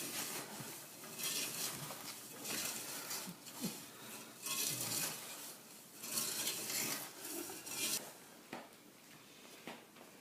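Apple pie filling being mixed by hand, with squishy, rubbing sounds of sliced apples in a bowl coming in uneven waves, moderately loud with no talking.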